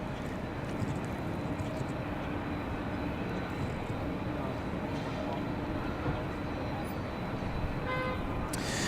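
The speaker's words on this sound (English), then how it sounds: "JetBlue coming in from Boston, JetBlue 2783. Let's see how the A220 handles the wind" A JetBlue Airbus A220 landing at Raleigh-Durham on a windy day after its flight from Boston, a faint, continuous distant jet rumble with a brief higher engine tone near the end, set against outdoor ambience.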